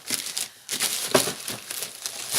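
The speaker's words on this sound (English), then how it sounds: "I'm also going to take everything out of this outside packaging" Crinkly plastic outer packaging from a clothing and shoe order is pulled and torn open in several close, uneven bursts, with a brief pause early on.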